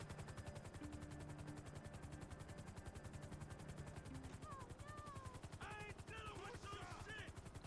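A helicopter in Grand Theft Auto V gives a steady, fast rotor chop under engine whine. Faint tonal game sounds rise near the end.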